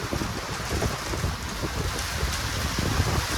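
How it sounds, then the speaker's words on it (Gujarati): Heavy rain hissing steadily with gusting wind buffeting the microphone, low rumbling bursts underneath, no voices. "વરસાદ ને બે વાવાઝોડું છે"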